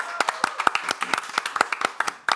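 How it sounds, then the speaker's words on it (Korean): Scattered, uneven hand clapping from a small group in an indoor broadcast setting, sharp distinct claps close by with no crowd roar. "자 박수 한번 주세요."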